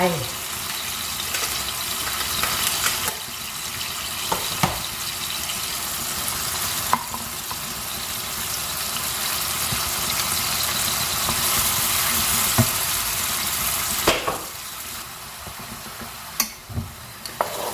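Beefsteak fungus mushrooms frying in a pan make a steady sizzle with occasional stirring clatters, and a voice talks over parts of it.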